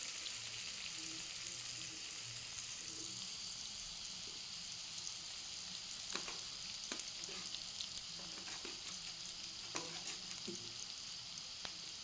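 Onion and curry leaves sizzle steadily in a hot pan, a soft, even frying hiss with scattered faint pops and light clicks throughout, no voices over it.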